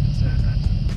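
Airbus AS350 helicopter in fast cruise, heard from inside as a loud, steady rumbling drone with a continuous engine and rotor hum and faint rhythmic blade pulses.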